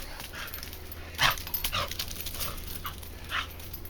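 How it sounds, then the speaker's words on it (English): A puppy whimpers and lets out a few short yips and barks, close by, in uneven bursts over quiet outdoor background. "Look, one happy little puppy."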